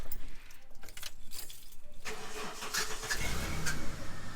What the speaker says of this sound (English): But I'll start up the car just so you can see what I mean about that harmonic balancer.